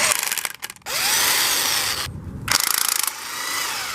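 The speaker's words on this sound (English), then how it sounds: "Now I'm going to be tightening this nut very lightly." A nut being run down on a Toyota front strut mount with a power tool, in loud bursts of whirring drilling separated by short pauses, ending in a rapid ratcheting clatter, close by with no talk.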